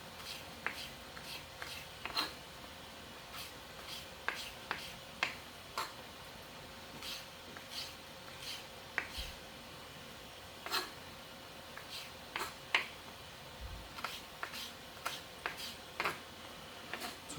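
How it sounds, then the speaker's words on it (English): A knife taps steadily on a cutting board while fresh ginger is sliced into thin pieces, a faint, quick run of crisp clicks close by with no talking. "You want to cut this into just really little thin slices."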